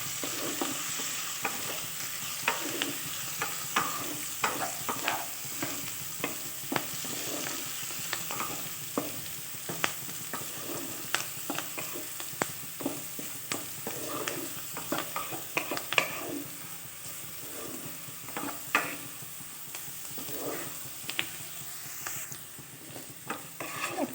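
Mixed fried rice with chopped onion being stir-fried in a pan, a continuous soft sizzle with repeated scraping and tapping of the spatula against the pan, close and steady without talk.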